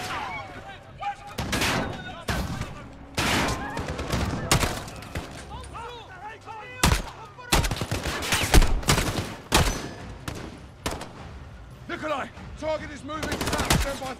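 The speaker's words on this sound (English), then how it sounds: "The gunshots, of course." Gunfire fills a street firefight in Call of Duty: Modern Warfare, with repeated sharp shots and bursts at irregular intervals, loud and close, mixed with game sound effects and voices.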